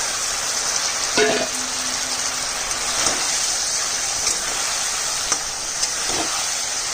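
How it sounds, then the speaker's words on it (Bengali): Fried eggplant and potato sizzle steadily in a pan for a fish curry, a loud even hiss of hot oil with a few brief clinks and knocks of a spoon against the pan, close and without speech. "ভাজা বেগুন আর আলুটা দিয়ে দিচ্ছি।"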